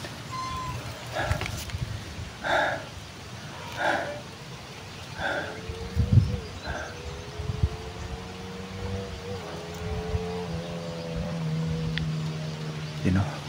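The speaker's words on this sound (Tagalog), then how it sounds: "may dumaan na motor." A motorcycle engine rises and drones past, its pitch sliding as it goes by, with scattered thumps and clatter around it.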